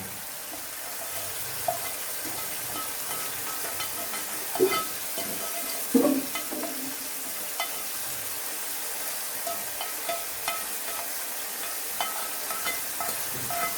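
Masala with onion seeds frying in ghee, a soft, continuous sizzle with occasional stirring knocks and scrapes against the pan, fairly quiet and with no talking.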